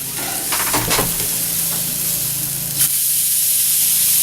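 Steady, loud sizzle of meat searing on a grill right after the pieces are turned, with a few clattering scrapes early on and a continuous bright hiss throughout.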